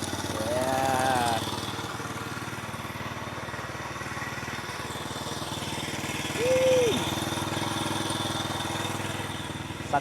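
Honda EX5 motorcycle engine idling after a fresh start following repair, a steady rattling putter heard close, with two brief revs rising and falling.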